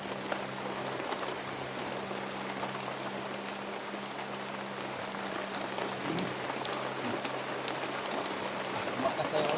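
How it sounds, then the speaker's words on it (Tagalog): Heavy rain hisses steadily as a dense, even wash of drops on surfaces, with a low hum and faint bird coos in the background and no one talking. "Makas na yung ulan tol."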